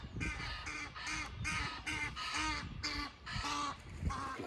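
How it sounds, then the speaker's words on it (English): Near a spring fishing lake where tench and bream are caught, ducks quack in a loud, rapid series of harsh calls lasting several seconds with no talk. "Bloody ducks."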